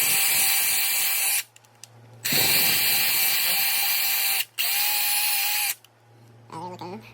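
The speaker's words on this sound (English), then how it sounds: "I'm gonna pop this in the vise and wire wheel it out too" Wire wheel grinding out the threads of a BMW E46 suspension part clamped in a vise, two long steady whirring bursts separated by brief pauses, close and loud, with a short spell of quieter handling noise at the end.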